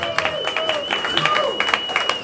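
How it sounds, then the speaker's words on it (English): A comedy roast charity audience gives a brief burst of clapping for a beatboxer, scattered claps under a voice. "Clap for Spaghetti Jake."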